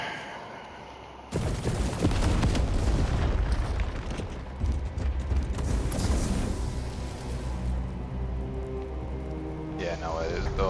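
A detonated charge in Warhammer 40K Space Marine 2 goes off with a sudden loud blast, then a long rumbling, crackling wash of debris that slowly fades, with voices talking over it.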